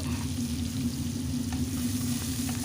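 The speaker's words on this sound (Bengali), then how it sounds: "পেঁয়াজটাকে একটু লাল করে ভেজে নিচ্ছি" Finely chopped onion fries in hot oil in a home kitchen, a steady, dense sizzle that stays loud and even for the whole stretch, close by, with no voices.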